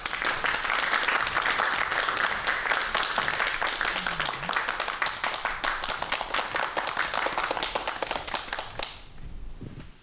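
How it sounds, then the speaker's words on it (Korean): An audience at a televised lecture applauds in welcome for nano-bio researcher Jeong Bong-hyeon of the Korea Research Institute of Bioscience and Biotechnology, with sustained dense clapping that runs about nine seconds before stopping abruptly into quiet. "박수 부탁드릴게요"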